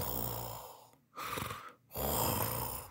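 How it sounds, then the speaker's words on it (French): A sleeping fisherman snores, drawing two or three slow, airy breaths with short silent pauses between them, close and soft. "C'est des ronflements et des ronflements."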